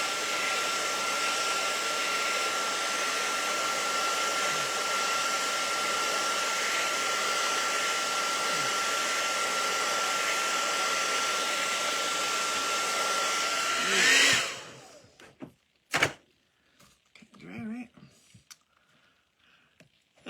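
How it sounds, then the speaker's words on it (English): An electric blow dryer, used to dry watercolor paint through a stencil, runs with a steady, loud whooshing whine for about fourteen seconds and then switches off. A few soft clicks and handling noises follow. "I opened it up and I put the blow dryer on,"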